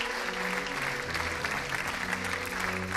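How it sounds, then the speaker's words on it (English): Crowd applause for Team BMW, winners of World Tour 1 at the 2020 FIA Gran Turismo Championships in Sydney, an even, continuous wash of clapping heard at a moderate distance under low sustained background music tones. "A round of applause for Team BMW"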